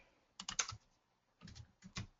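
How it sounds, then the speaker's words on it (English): Keys on a computer keyboard tapped in two short bursts of quick, soft clicks separated by a pause, close and quiet, with no talking. "my typing is terrible today"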